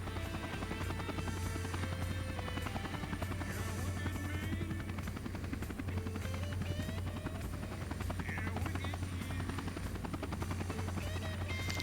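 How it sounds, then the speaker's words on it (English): A CH-47 Chinook helicopter in the video game Air Conflicts: Vietnam, its rotor thudding as a continuous low drone, joined by scattered electronic beeps and effects. "I have to catch up with the Chinook"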